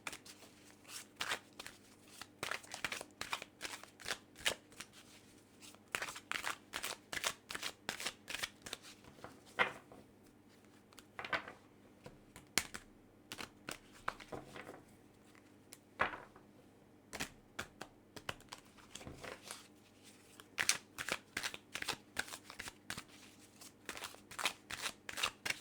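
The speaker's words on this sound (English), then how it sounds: "shuffling this deck several times." A deck of tarot cards being shuffled repeatedly, crisp riffling and flicking bursts in uneven clusters with brief pauses, close and fairly quiet, no voices.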